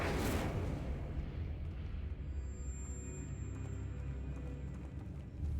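An Incendio fire spell blast in the video game Hogwarts Legacy erupts with a sharp burst at the start, then a rumbling, roaring rush of flame that sustains loudly before easing off.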